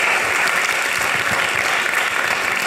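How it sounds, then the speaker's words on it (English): Steady, full applause from an audience honoring a guest speaker at a university executive speaker-series event, continuous crowd clapping with no pauses throughout. "let's have another round of applause for our speaker,"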